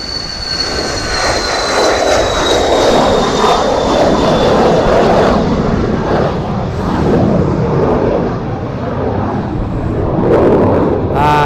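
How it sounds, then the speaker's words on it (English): An Embraer Phenom business jet takes off, its engine roar broad and steady across the whole stretch with a falling whine, loud and close, with no talking. "Oh, here goes the Embraer. Let's see what he does then, shall we? Will the Phenom get airborne?"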